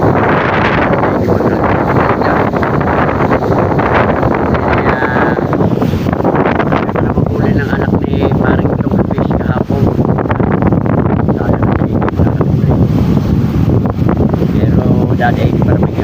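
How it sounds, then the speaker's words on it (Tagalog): Heavy surf and gusting typhoon wind at sea, a steady roaring wash with buffeting wind noise across the microphone, loud and continuous throughout, with faint voices mixed in. "Galit na galit ang alon."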